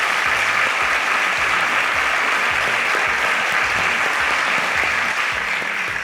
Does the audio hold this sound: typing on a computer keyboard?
no